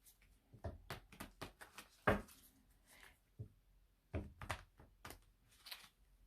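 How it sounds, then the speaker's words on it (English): A Moonology oracle card deck shuffled by hand: soft irregular clicks, taps and dull thunks of cards riffling and knocking together, close and quiet, in uneven bursts. "And get a couple more shuffles here."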